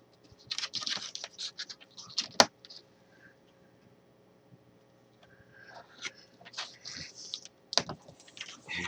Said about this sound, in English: And then I've got to cut it off of here.